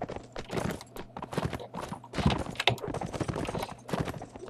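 Horse hooves clip-clop and pound in bursts during a Mount and Blade Warband battle, with rapid, irregular impacts at moderate loudness and no talk.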